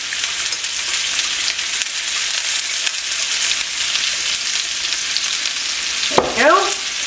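Food frying in oil in a pan on the stove, a loud, steady close sizzle that continues throughout, with a brief scrape or clatter near the end and no talking.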